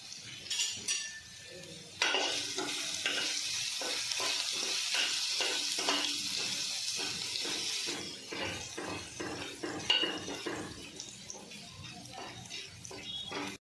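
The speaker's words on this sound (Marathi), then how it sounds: "आपल्या लसूण आणि जिरं छान फुलले" Garlic and cumin seeds sizzling in hot oil for dhaba-style dal tadka, a bright steady crackle that starts abruptly, punctuated by repeated scraping and stirring knocks of a utensil against the pan.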